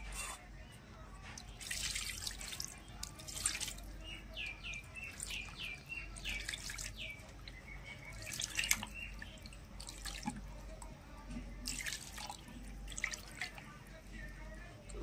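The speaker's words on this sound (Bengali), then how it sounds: "এবারে মাছটা আমি ভালো করে ধুয়ে নেব।" Tap water runs and drips while rohu fish is rinsed in a kitchen, with faint splashes and trickles over a quiet background and birds chirping in the distance.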